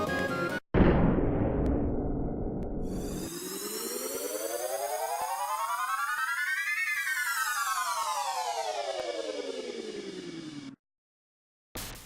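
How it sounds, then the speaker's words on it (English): Cannon launch sound from the Secret of Mana video game, a long synthesized whirring tone that sweeps upward then back down over several seconds, loud and alone after a brief burst at the start. "you enlist the help of cannons"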